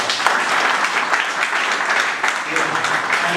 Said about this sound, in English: So you should clap for that.